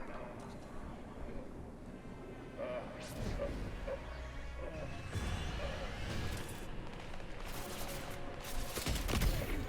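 Gunshots in a shooter video game arrive as scattered single shots over a dense combat din, with a voice talking through it.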